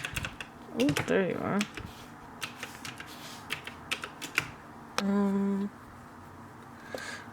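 Keys clatter on a computer keyboard in scattered, close taps and short runs, with a voice speaking briefly and a steady electronic tone sounding for a moment partway through.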